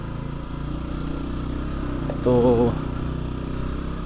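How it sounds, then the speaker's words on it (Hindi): A motorcycle engine straining as it climbs a steep hill toward a dangerous valley, a steady mid-pitched drone heard throughout with a brief louder tonal surge near the middle, while someone speaks over it. "बाइक का भी ज़ोर लगेगा। शोर से आपको पता लग ही रहा होगा।"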